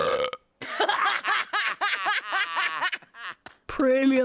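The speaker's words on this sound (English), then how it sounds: "Premium belch." A loud cartoon belch from a character after eating pizza with extra anchovies, a long croaking burp followed by laughter-like voiced sounds and a final gurgling tone.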